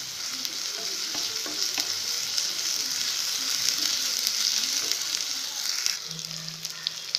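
Green chillies sizzle steadily in hot oil while a spatula stirs and scrapes the pan, making a continuous close frying hiss with scattered utensil clicks for the whole stretch.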